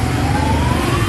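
A fire truck siren sounds at a market fire in Tuban. It is a loud, sustained tone that rises slowly over a dense rumble of nearby engine noise.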